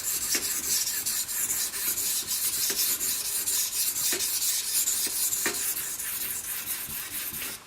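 Steel drawn across a Shapton 500 grit ceramic stone, a steady gritty rasping with repeated strokes and a few sharper scrapes marking the passes, close and alone without talk.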